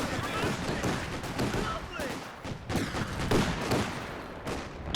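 Small arms gunfire from Company of Heroes 2 in a 2v2 match, with rapid overlapping shots and crackling bursts of rifle and machine-gun fire under a commentator's voice.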